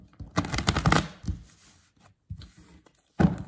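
A deck of playing cards riffled and shuffled by hand at close range, with a long burst of rapid flutters, a few shorter riffles and pauses, then a final quick shuffle at the end.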